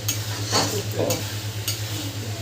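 Mutton masala with tomato is stirred and sautéed in sesame oil, a close steady sizzle with a few scraping strokes of a spoon against the pot over a low electrical hum.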